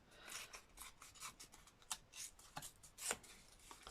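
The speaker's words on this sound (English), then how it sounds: "so I'll just keep ripping for a minute." Paper torn by hand for a torn-paper and stitch art piece, heard as quiet, close bursts of dry ripping and rustling in an uneven rhythm, with no talk.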